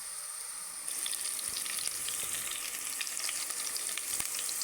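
Garlic and onion sauté in a pan for adobo, a soft steady sizzle that swells in after a quiet first second and holds as a fine continuous hiss with faint scattered pops.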